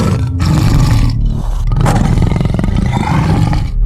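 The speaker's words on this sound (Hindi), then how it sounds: "फिर बाघ गरजता हुआ नदी के किनारे से चला जाता है।" A cartoon tiger roars by a riverbank, a loud, rough, growling roar that swells and rumbles continuously for several seconds with brief dips between bursts.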